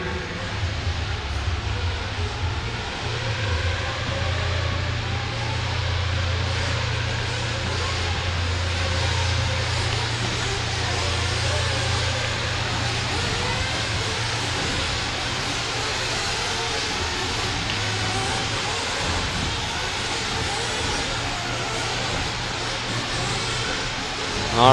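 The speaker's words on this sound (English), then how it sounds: "20-minute B main for 40 and over Nitro Buggy." Nitro 1/8 scale RC buggies race on a track during a 40-and-over B main, with a continuous buzzing whine of small engines rising and falling as they pass.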